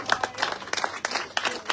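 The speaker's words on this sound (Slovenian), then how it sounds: "Aplavz za Majo, prosim." An audience applauds at a talk evening, a short burst of clapping with sharp, fairly regular hand claps filling the room and no voices over it.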